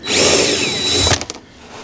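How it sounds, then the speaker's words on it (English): A power drill with a long bit removing screws from a fiberglass boat lid whirs loudly and steadily for about a second, then winds down and stops, leaving a few soft clicks and quiet. "we're just going to get our drill with a long bit on it"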